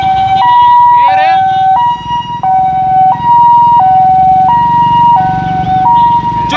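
An ambulance siren wails loud and close in a steady two-tone hi-lo pattern, alternating roughly every second, over road rumble, with a brief whoop-like sweep early on.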